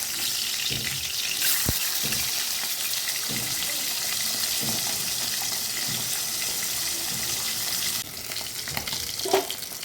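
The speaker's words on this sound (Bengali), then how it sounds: "একে একে ভাজবো। মাছগুলো দিয়ে দিলাম।" Small chela fish fry in oil in a pan, producing a continuous, close, loud sizzle with occasional pops and clatters from handling, then settling slightly quieter near the end.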